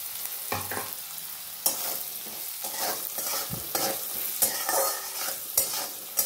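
Greens being fried in a pan and stirred with a utensil: a soft sizzle beneath repeated scraping strokes and sharp clanks against the pan at an irregular pace, with no voices.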